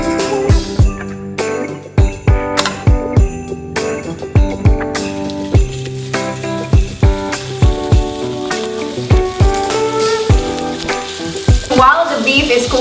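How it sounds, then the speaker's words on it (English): Ground beef for burgers fries in a pan with a continuous hissing sizzle, broken by regular clinks and scrapes of a utensil against the pan, close and without any talking. "While the beef is cooking"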